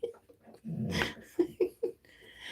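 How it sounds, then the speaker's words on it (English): A dog growls at a toy indoors: a low, rough rumble lasting about half a second, followed by a few short, snuffly bursts close by. "She's growling at it even."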